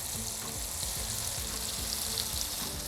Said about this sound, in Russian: грибы мы помешали, теперь добавляем соль, добавляем банку сметаны, все это тщательно перемешиваем.